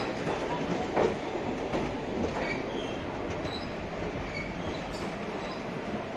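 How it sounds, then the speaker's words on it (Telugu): Train rumble and rail noise at Vijayawada Junction railway station, platform 1, a steady close wash of wagon and wheel sound with faint squeals and clatter throughout, no talking. "అదిగోండి కనబడుతున్నదే విజయవాడ జంక్షన్. Platform number 1."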